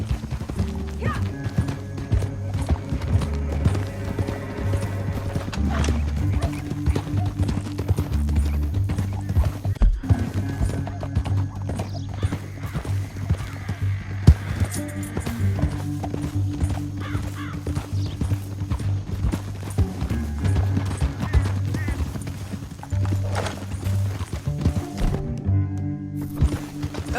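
Horse hooves clip-clop steadily on the ground in Red Dead Redemption 2, a close, continuous rhythmic trot with an occasional whinny and game music and effects underneath.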